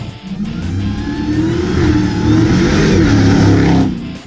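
A 2017 Dodge Challenger Hellcat engine revs hard, the high whine of its belt-driven supercharger riding over the deep rumble, swelling and holding close and loud.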